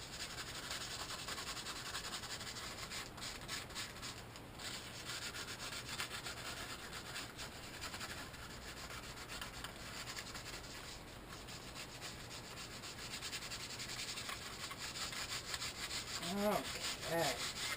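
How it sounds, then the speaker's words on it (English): Sandpaper rubs steadily against the slick, coated surface of a paper gift bag, giving a continuous close scratchy rasp that carries on without a break, with a few faint higher clicks near the end. "take some sandpaper, rough up a little bit of this slick stuff here"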